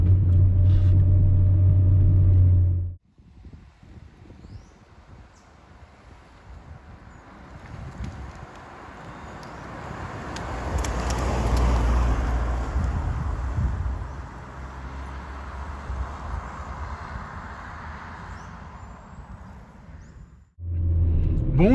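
A 1990s Volkswagen Passat B4 with a 2.0 engine driving, heard as a steady low engine rumble mixed with wind and road noise that swells and eases. A louder, different sound briefly cuts in at the start and end.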